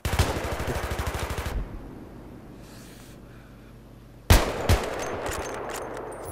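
Automatic gunfire from the video game Battlefield 3: a rapid, loud burst of shots opens, then a near-silent gap, then more sharp, close shots return.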